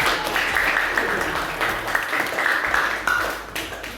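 Classroom of students applauding during a teaching practice lesson, a steady wash of clapping that holds loud and dense for the whole stretch with no voices standing out.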